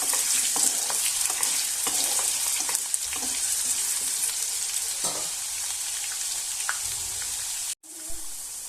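Cut potatoes fry in hot oil, a loud, dense, continuous sizzle heard up close with occasional stirring knocks, cutting off briefly near the end before resuming.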